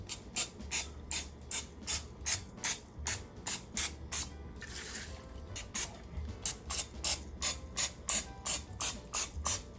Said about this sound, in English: I just want to spray each with a little bit of oil